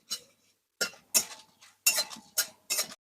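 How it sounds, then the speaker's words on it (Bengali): Dry red chillies being tossed and stirred in a dry pan, giving separate light scraping and clinking bursts in an uneven rhythm with brief gaps between, near and clear with no talk. "আবারও শুকনো খোলায় লেড়ে দেবো"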